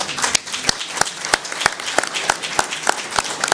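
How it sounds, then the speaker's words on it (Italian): Conference audience applause fills a hall, steady dense clapping with a few sharper individual claps standing out at a regular beat, close and continuous. "invito con un caloroso applauso Judith Beyer."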